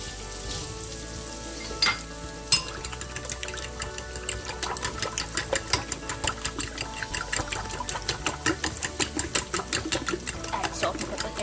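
Onion, tomato and scrambled eggs stirred in a frying pan, with a steady sizzle under rapid rhythmic scraping strokes of the utensil against the pan, close and fairly loud, after a couple of sharp knocks early on.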